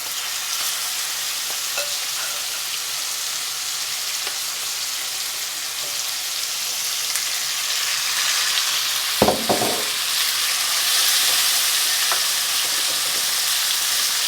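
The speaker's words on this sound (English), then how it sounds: "And you hear that sizzle? That's exactly what we want from the chicken." Steady, hissing sizzle of chicken frying in hot oil, continuous and fairly loud, with a brief clatter partway through.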